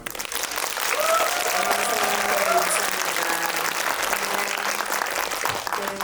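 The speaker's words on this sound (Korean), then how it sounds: "큰 박수로" Applause at a Korean film screening talk welcoming an actress as special guest: dense, sustained clapping from the audience for about six seconds, with voices speaking faintly over it.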